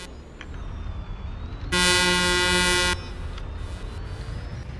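Truck horn in a truck driving video game, one loud, steady, harmonic blast lasting just over a second over a low engine hum.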